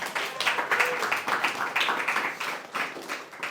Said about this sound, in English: let's get a round of applause for that right now